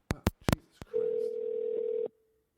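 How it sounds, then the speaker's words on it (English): Phone call on speakerphone: a few sharp clicks and taps, then a steady single-tone ring or dial tone holding for about a second before cutting off, with no talking. "Tell your best friend to answer the damn phone, Keith."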